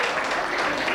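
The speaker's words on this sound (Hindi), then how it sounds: "जोरदार ताली बजा दो।" An audience at a Hindi poetry gathering breaks into loud, dense applause for a poet, a steady wash of many hands clapping close by for about a second.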